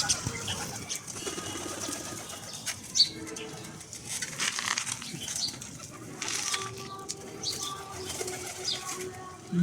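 Pigeons at feeding time coo quietly while wings flap in short bursts nearby, with scattered rustling and light clatter in the background.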